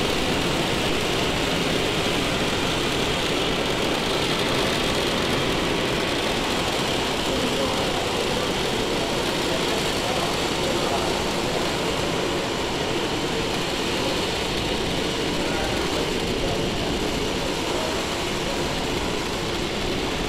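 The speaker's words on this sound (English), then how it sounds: "we have just had liftoff of our Falcon 9" Falcon 9 rocket engines roar at liftoff in a continuous, dense, loud rumble that holds steady for the whole stretch, broadband and unbroken with no voices over it.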